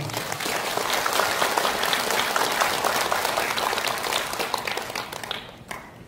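A large crowd at a political rally in South Jeonnam claps together in sustained, dense applause that stays loud and steady before tapering off near the end.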